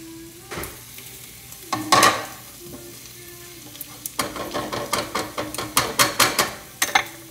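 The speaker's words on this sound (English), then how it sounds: "I started to just fry up onions." Onions fry in a pan with a soft sizzle. Scattered knocks and scrapes come first, then a fast run of sharp clicking stirring strokes near the end. No one speaks.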